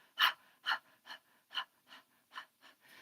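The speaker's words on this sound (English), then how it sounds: "you could also pant with your breath," Rapid open-mouthed panting, a series of about eight short breathy huffs in an even rhythm, close and fairly soft, with quiet gaps between them.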